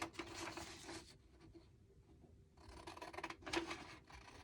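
Scissors cutting out a small paper sign, close and quiet, with soft rhythmic snipping and rustling in two stretches separated by a brief pause.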